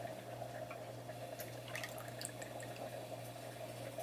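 Milk from a 12-ounce can being poured into a bowl while making cinnamon butter rolls, a steady liquid trickle with light splashing drips over a constant low hum.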